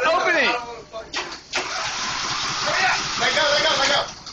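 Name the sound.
lawnmower engine starting after jump start from Dodge Durango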